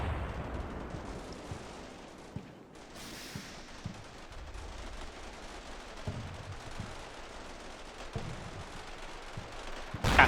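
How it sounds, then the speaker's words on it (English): Distant mortar explosions from a war video game, a scattered series of dull booms and crackles rumbling in the background, with a sharper louder burst at the very end. "We just get some collateral damage from a mortar run."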